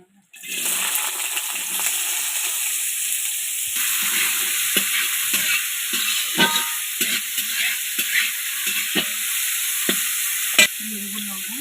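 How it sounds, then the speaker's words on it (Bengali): Vegetables for fried rice hit hot white oil and sizzle loudly and continuously, with stirring clinks and scrapes breaking through the steady hiss. "আমি এবার সাদা তেল দিয়ে দেবো, দিয়ে আমি সবজি ভেজে নেব।"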